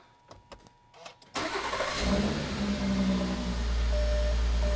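A VW VR6 engine cranks and fires up with a fresh Wookiepipe exhaust, catching after a brief starter whir and settling into a steady, fairly quiet low rumble close by, with no talking.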